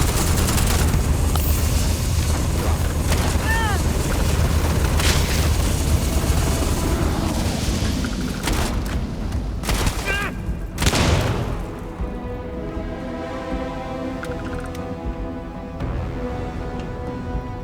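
A grenade blast in the sci-fi game Starfield, a loud booming burst around the middle amid continuous dense game noise of gunfire and explosions, followed by a quieter rumbling tail.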